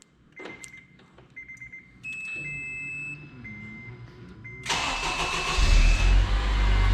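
A car's electronic beeps and chimes sound, then the engine cranks and catches via a Python remote start, settling into a loud idle with a slight rev.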